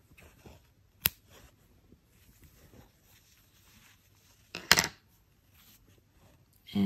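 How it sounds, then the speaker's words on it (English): Scissors snipping yarn in a quiet room, one sharp click early and a louder brief double snip a few seconds later. "And I will cut the yarn."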